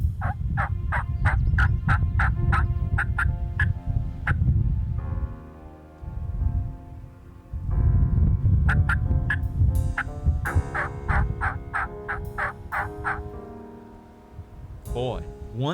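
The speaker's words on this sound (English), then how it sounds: "maybe we'll get a play on a gobbler" Wild Rio Grande turkey gobblers gobble repeatedly in rapid rattling bursts, loud and fairly near, with someone talking quietly between and over the calls in the open outdoors.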